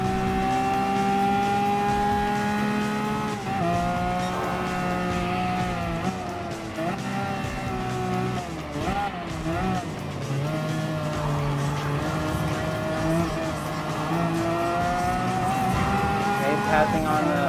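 Race cars in Gran Turismo Sport, including an Aston Martin and an Alfa Romeo 4C road car, drone loudly with rising and falling engine pitch as they pass, with tyre squeal and a voice talking over the racing.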